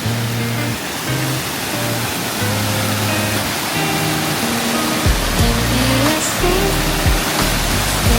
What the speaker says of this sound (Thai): น้ำตกวังม่วงจังหวัดนครนายกนะครับ